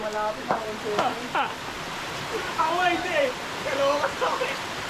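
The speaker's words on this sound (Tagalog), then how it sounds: "Lakas ng ulan." Heavy rain pours steadily as a broadband wash around bikers near Wawa Dam outside Metro Manila, with people talking over it throughout.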